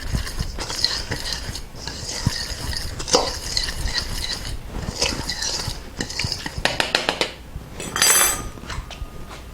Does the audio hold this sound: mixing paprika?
yes